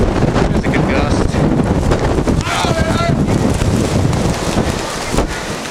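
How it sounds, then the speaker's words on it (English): A strong wind gust roars during a snow blizzard in Madison, a loud continuous rushing that buffets the microphone, with voices speaking over it. "There's a good gust."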